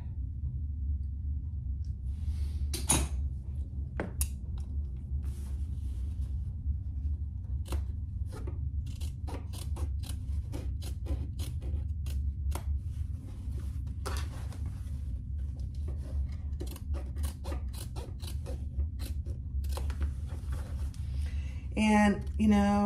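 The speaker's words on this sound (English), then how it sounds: "and then I'll do it with my scissors." Scissors cut through thick, heavy home decor fabric in a run of sharp snips and crisp clicks, close and fairly quiet over a low background hum, with a burst of rustling at the end.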